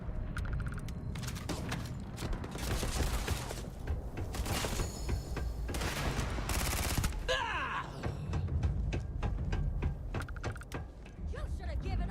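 Rapid gunfire bursts in the sci-fi video game Starfield, loud and dense, repeated volleys with mechanical clanks between them, voices talking over the action.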